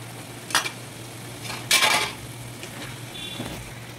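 Chopped sorrel (chukka kura) leaves go into a pan and get stirred. A few distinct scrapes and clatters of a utensil against the pan sound over a low background hum, with a faint sizzle.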